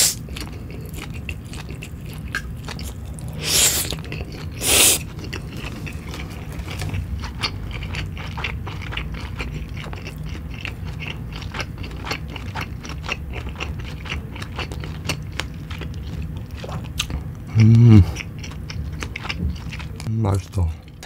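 Chewing during a mukbang of Jjapaghetti noodles cooked with lots of pork and BBQ fried chicken: close, wet, steady mastication and soft crunching continue throughout, with a couple of louder bursts and short thumps of handling.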